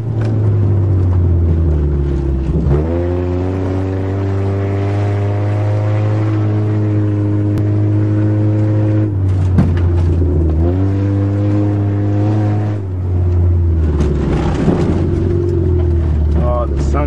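A 1990 Honda Civic drives fast over bumps, its engine droning steadily with rising revs and shifting tones and a continuous loud rumble throughout, with voices talking over it.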